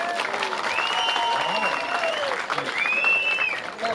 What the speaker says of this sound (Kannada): ಎಲ್ಲರೂ ಒಂದು ಜೋರಾಗಿ ಚಪ್ಪಾಳೆ ಹೊಡೆಯಿರಿ